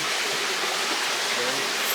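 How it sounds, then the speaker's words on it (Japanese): Water streams continuously through nagashi somen lanes on a restaurant table, a close, steady rushing and splashing, with faint voices under it. "テーブルにいくつか水が流れるレーンがあって、そこをそうめんが流れてきます"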